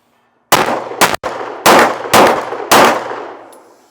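Five loud, close gunshots ring out in quick succession during a cold-start shooting drill, each with a sharp metallic clang of rounds striking steel targets, the shots spaced unevenly over a few seconds.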